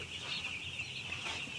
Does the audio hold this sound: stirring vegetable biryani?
no